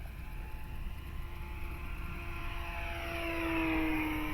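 Dynam Super Cub electric model airplane flying overhead, a steady buzzing propeller whine that rises in pitch and grows louder as the plane comes closer, with no voices.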